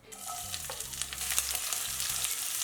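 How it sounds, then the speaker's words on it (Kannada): Sliced onions frying with bay leaf, cloves, cardamom, star anise and cinnamon for beetroot pulao, a loud continuous sizzle close by with occasional stirring scrapes. "ಈರುಳ್ಳಿ ಕೆಂಪಗೆ ಬಾಡಿಸ್ಕೊಳ್ಳೋಣ."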